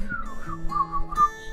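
A person whistles a short, wavering melodic line, fairly close and clear, with a few sustained tones and slides and no talking.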